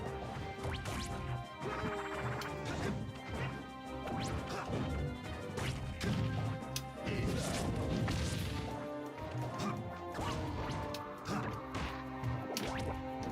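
In Super Smash Bros Brawl, Ike is struck by a forward smash, with sharp crashing and thwacking hits layered over busy game music and effects, loud and dense throughout.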